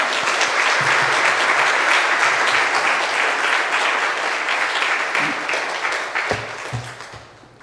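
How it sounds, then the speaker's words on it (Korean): A church congregation gives the preacher a dense, sustained round of applause that fills the sanctuary, then thins and fades out in the final seconds. "따뜻하게 환영하는 의미로 박수로 맞이하도록 하겠습니다."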